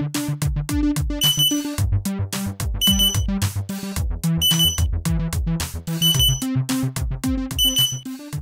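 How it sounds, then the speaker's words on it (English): A Raspberry Pi buzzer sounds when a QR code is scanned: loud, close electronic beeps in a fast repeating rhythmic pattern, clean and continuous. "When a new QR code is detected, the buzzer will beep 2 times"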